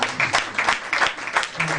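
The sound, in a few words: audience clapping for the organization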